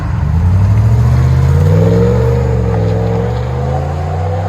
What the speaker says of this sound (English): This is what it sounds like with just a muffler replacement of a FLOWMASTER Super 10.